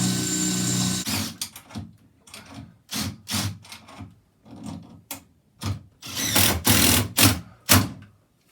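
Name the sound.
power drill drilling through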